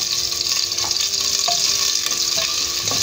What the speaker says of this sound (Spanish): Así es que vamos a dorar nuestra cebolla.